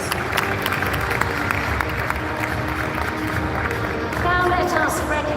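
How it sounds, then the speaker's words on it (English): Steady applause from a crowd at a summit awards ceremony, dense and continuous, with scattered voices underneath and a slight swell near the end. "A round of applause, please"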